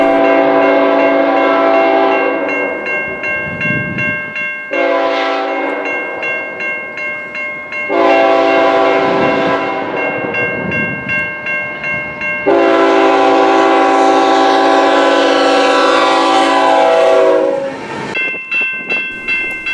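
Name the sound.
CN freight train passing with horn, one locomotive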